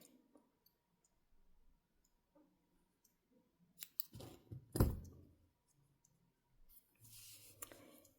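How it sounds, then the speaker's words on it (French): Scissors snipping crochet yarn on a Christmas mug cosy, a couple of sharp close cuts in the middle of an otherwise quiet stretch, with light handling clicks around them. "Ce que je vais faire, c'est couper le fil."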